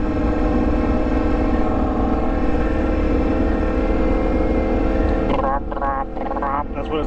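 Close and loud, an Austin Racing exhaust on a Yamaha MT-10 holds a continuous throaty idle, then wavers and dips over the last two seconds.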